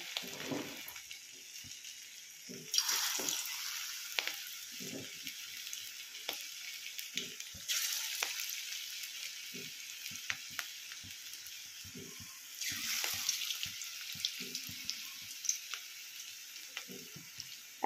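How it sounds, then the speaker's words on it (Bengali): Cabbage pakoras made with gram flour and flour fry in hot oil, giving a soft, steady sizzle with occasional louder bursts as batter is dropped in, and no voices. "আমি হাতে করে করে যেমন বাঁধাকপির পকোড়া করা হয় সেরকম করে করে ভাজতে থাকবো।"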